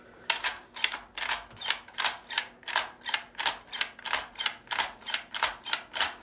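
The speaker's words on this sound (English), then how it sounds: "now you're all set to load magazines" Small .22 LR rimfire rounds snap one after another into a magazine through a McFadden Lightnin' Grip loader, about fifteen crisp, close metallic clicks in a quick, regular rhythm, with no voices.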